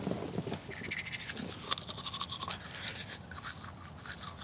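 A toothbrush scrubs teeth inside a car, rapid close bristle strokes in uneven bursts for several seconds, with faint rustling and no talk.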